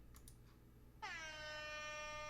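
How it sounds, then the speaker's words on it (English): A loud, sustained air horn blast from an OBS stream alert cuts in abruptly after a second of near silence and holds steady to the end. "Enabled, I have it play air horn."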